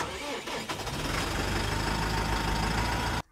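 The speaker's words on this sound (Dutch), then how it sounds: "En starten." A Massey Ferguson 6460 tractor engine cranks briefly and catches, then runs at a steady, loud, close rumble for about three seconds before cutting off abruptly.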